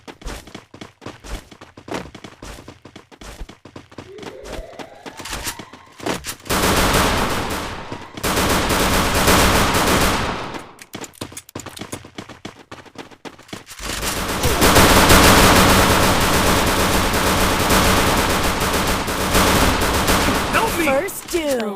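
M1873 mini shotgun fire in the Free Fire Craftland video game, with repeated sharp shots and sustained loud bursts of gunfire in two long stretches, separated by quieter clicks and game sounds.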